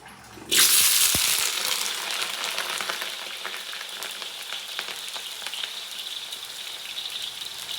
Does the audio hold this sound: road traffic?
no